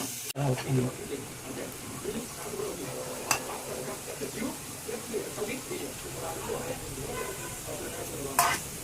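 Capsicum, onion and tomato stirred and sautéed in a pan, with a soft steady sizzle under scattered scraping stirs and a couple of sharp clinks, close and moderately quiet.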